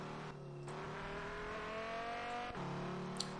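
A turbocharged car engine in the racing game Auto Club Revolution revs with steadily climbing, whining harmonics, and its pitch shifts at brief gear changes. The engine sounds fairly quiet and alone, with no voices.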